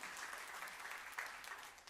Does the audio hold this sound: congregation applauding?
yes